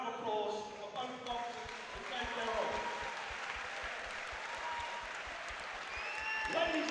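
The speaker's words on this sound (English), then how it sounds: "Ladies and gentlemen, a round of applause for both boxers to take their oath." An indoor boxing event crowd claps steadily through the clip for the boxers, a dense sustained round of applause with some shouts and a voice speaking over it.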